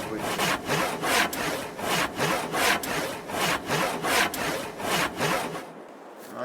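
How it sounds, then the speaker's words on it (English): Handsaw strokes cut through logs in Farming Simulator 22, a steady back-and-forth rasping of teeth through wood at an even rhythm, loud and close, stopping abruptly just before the end. "Naturally, because we're using a handsaw to cut all of this."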